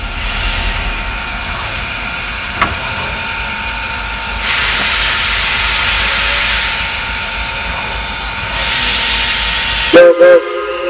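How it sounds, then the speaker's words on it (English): A Reading and Northern steam locomotive on the Lehigh Rambler excursion hisses loudly and steadily. The steam surges in two stronger bursts, and a short whistle-like tone sounds near the end. "this is what you call the power of steam"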